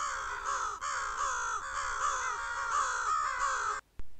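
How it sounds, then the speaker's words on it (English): A crow caws loudly and repeatedly at a Texas farm pond, a steady run of harsh calls close by that stops abruptly near the end. "Oh, we're getting stared down by this crow."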